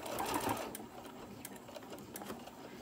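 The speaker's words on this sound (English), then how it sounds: "my corners are kind of curved, so I'm going to try to sew it" A sewing machine runs continuously while stitching around the curved corners of a fabric koozie, a soft, even whir close by with faint ticking.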